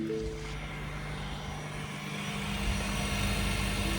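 A 2013 Lincoln MKZ Hybrid, freshly fitted with a replacement transmission, runs quietly at idle with a low steady engine drone and faint whine, alone with no talking.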